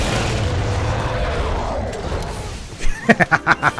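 A booming explosion in Monster Hunter World: Iceborne, a heavy rumbling blast that fades out, followed by a quick series of sharp rhythmic impacts near the end.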